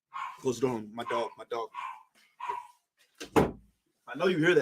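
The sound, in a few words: dog barking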